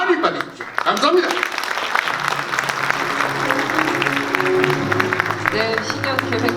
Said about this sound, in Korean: 회장님께 다시 한번 큰 박수 부탁드립니다.